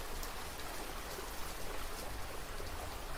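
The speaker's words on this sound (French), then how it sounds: "Alors on a la pluie." Steady synthetic rain sound effect from a ghost box app, a soft, even hiss of falling drops with no pauses, heard alone at low volume.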